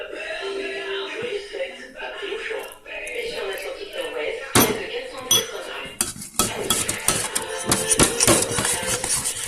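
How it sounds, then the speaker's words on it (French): Homemade play dough of flour and water mixed in a bowl, irregular scraping and clinking of a utensil against the bowl that grows busier and louder, with a person talking throughout. "Faut mélanger même si ça colle"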